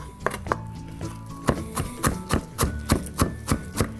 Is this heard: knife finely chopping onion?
yes